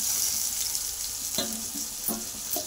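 Taro and potatoes hitting hot oil in a pan, a steady close sizzle with a few sharp crackles and stirring knocks, no voices.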